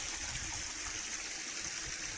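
Water trickles and splashes from a hose connection on a rocky jungle hillside, a continuous close hiss of flow that stays steady and unbroken.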